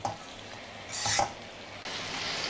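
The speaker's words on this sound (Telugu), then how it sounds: "చూడండి ఎలా రోస్ట్ అవుతుందో" Telangana-style spicy pepper mutton roasting in a pan, with a steady close sizzle and stirring scrapes that swell into a louder burst midway before settling back.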